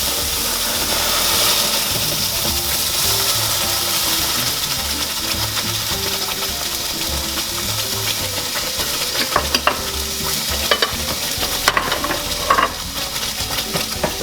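Prego sauce is stirred into a hot pan of sautéed onions and garlic, giving a steady, close sizzle with scraping and clattering strokes of the spoon throughout, and no one speaking.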